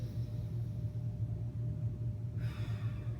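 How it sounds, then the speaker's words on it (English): A deep inhalation during a foam roller pec stretch and thoracic mobility exercise, a breathy intake rising near the end over a steady low rumble. "Deep breath in."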